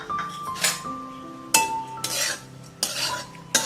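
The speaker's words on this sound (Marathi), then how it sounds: "हे पण आपल्याला मंद आचेवरती परतून घ्यायचे" Half a cup of finely grated dry coconut is stirred and roasted in a pan over low heat, with repeated scraping strokes of a metal spoon against the pan and light clinks, close and intermittent, no sizzle to speak of.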